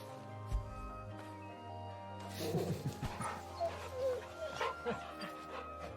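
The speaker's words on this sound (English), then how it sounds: "Right, my dog is here." A dog in the video game Final Fantasy XVI gives a few short yips and whimpering barks over a steady bed of game music and ambience, moderately quiet.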